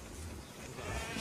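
A sheep bleats in a Trainz train animation, a short faint bleat heard on its own against a soft background.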